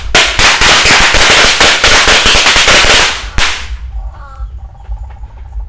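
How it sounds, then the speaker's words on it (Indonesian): Rapid strings of firecrackers buried in the ground crackle loudly for about three seconds, ending in a final sharp bang, then quieter outdoor ambience. "sudah menyala semua mercon Lombok Umpleng di dalam tanah"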